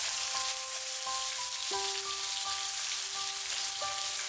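Lamb pieces spread out in a pan with onions sizzle and fry in oil over medium heat, a steady dense crackle throughout, with faint tonal kitchen hum lines over it and no talk.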